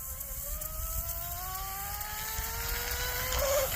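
An RC rigger boat with a 5250kv TP Power motor runs on water, its high-pitched electric whine rising steadily in pitch as it speeds up, with wind noise and no voices.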